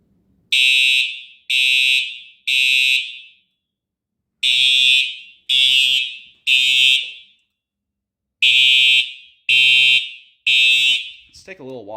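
A Simplex 4008 home fire alarm system sounding in a temporal pattern, three loud shrill horn blasts, a pause, then repeated sets of three, ending with a brief rising tone.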